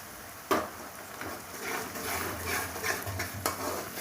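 Fried onion and garlic sizzling in a pan after a small splash of water, a faint, hissy, uneven crackle with a sharp clink of a utensil near the start and soft stirring scrapes.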